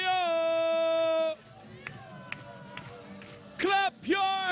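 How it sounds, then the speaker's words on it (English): Crowd at the World Rowing Championships clapping in rhythm: a few sharp, evenly spaced claps follow a long sustained tone and come before a loud shouted voice. "Clap your hands, hands, hands!"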